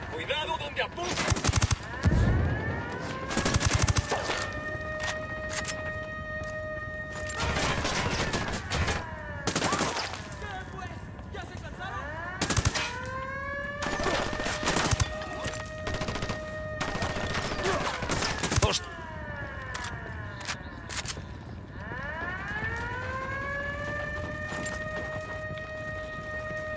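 Repeated bursts of gunfire and automatic weapons fire in Ghost Recon Wildlands, loud and close, recurring throughout with rising siren-like tones and faint voices underneath.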